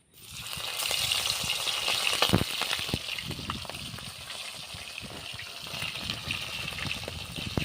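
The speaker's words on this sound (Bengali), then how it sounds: "তেলের মধ্যে মাছগুলো দিয়ে দিচ্ছি।" Small fish fry in hot oil with a steady, bright sizzle and crackle that starts abruptly and settles into a continuous hiss with scattered pops, close and moderately loud.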